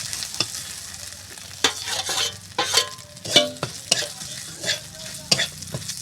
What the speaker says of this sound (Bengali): তেলটা গরম হয়ে যাওয়ার পরে এবারে বাটা মশলা, আদা রসুন আর লাল মরিচ, তারপরে দেবে 5 ফোড়ন